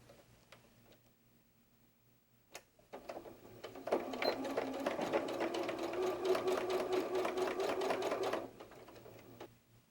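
A sewing machine stitches fabric for a bear softie, quiet clicks at first and then a steady, close whirring run of rapid needle strokes for about five seconds before it stops.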